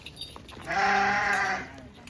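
A single drawn-out goat or sheep bleat rings out close by at an outdoor film set, where oxen, cows, a mule and a horse are also kept, over quiet background noise.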